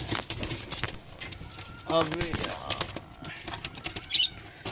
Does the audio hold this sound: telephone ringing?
no